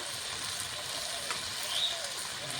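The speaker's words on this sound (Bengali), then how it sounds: "আমার সবজিটাকে আমি ভালো করে ভেজে নেব" Vegetables sizzle in a pan with coriander, chili, cumin and garam masala powders, a soft, steady crackling hiss that stays faint throughout.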